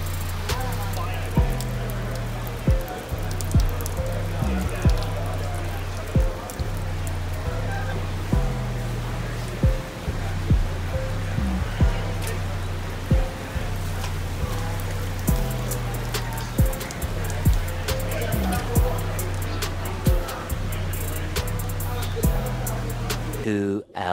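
Heavy rain pours outdoors at the Citi Open tennis tournament, a loud, steady dense patter on surfaces with recurring dull thuds throughout.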